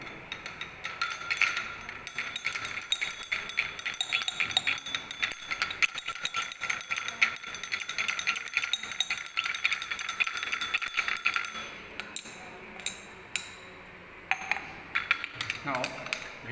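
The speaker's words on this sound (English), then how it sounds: "Now we are going to stir it continuously till it get solid." Vanishing cream mixture stirred in a glass beaker, giving a fast continuous clinking and rattling of rod against glass, close and fairly faint, with someone talking over it.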